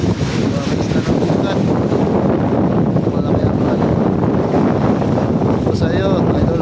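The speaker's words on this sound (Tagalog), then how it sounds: "Umuugong po ang alon. Kahit na po maliit ang tubig." Waves roar by a damaged flood-control structure at Tibaguin, a loud continuous churning wash of water mixed with heavy wind buffeting on the microphone, dense and unbroken throughout.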